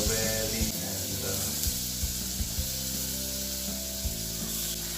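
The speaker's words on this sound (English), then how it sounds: "fry it again" Drumsticks fry in a pan with a steady, loud sizzle, and a few soft knocks and stirring scrapes sound through it.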